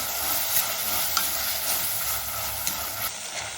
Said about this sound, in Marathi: तर मिरची जी आहे ती चांगली व्यवस्थित फ्राय करून घ्यायची आहे